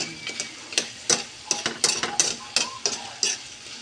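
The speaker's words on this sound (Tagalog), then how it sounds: "Magluluto ako ng gulay, gisang gulay." Vegetables and chicken being sautéed in a pan, a utensil scraping and tapping the pan in quick irregular strokes over a soft sizzle, close and with no talk.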